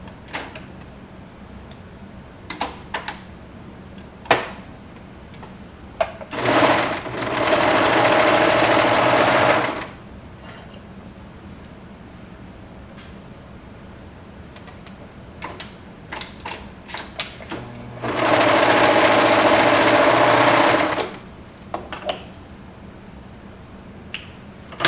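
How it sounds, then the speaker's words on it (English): A sewing machine stitches fabric ends together in two sustained bursts of steady, fast whirring, each several seconds long, separated by quiet stretches with small clicks and handling noises, close by and with no talk. "you just sew the whole thing down"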